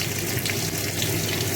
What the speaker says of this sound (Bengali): রসুনগুলো একটু লাল লাল করে ভাজা হোক।